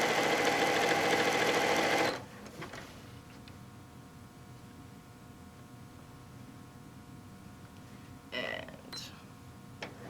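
A sewing machine stitches down a pillowcase seam in a fast, loud, steady whir for about two seconds, then stops, leaving quiet room noise with a brief soft rustle near the end.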